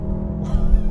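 A Mercedes-AMG GLC 43 in Sport Plus mode accelerates hard onto a highway, its engine a loud, low, rising roar heard from inside the cabin that swells in the second half.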